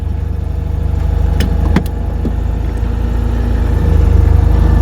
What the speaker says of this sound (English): Oh, such a lovely engine.